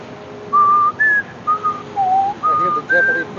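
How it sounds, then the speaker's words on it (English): Someone whistles the Jeopardy theme tune in short, clear sustained notes that step up and down over a faint hiss, with no talking. "I hear the Jeopardy theme music now."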